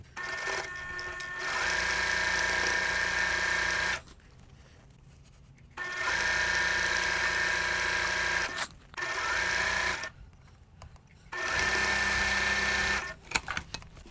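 Sewing machine stitching quilt block pieces in three long steady whirring runs and one short burst, separated by quiet pauses, close and alone with no talking.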